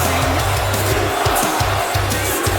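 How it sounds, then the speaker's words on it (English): A wrestling arena crowd in the video game WWE 2K25 roars steadily and loudly, a dense wash of cheering that stays continuous, with rhythmic low thuds pulsing underneath. "Listen to this crowd."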